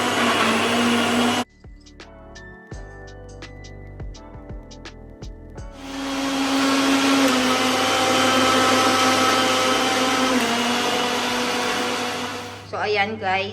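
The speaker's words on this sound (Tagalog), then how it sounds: "I-blend na niya ngayon." An electric blender whirs loudly while blending a sweetened drink, cutting out briefly amid clinks and handling sounds, then roaring back into a long steady run before stopping.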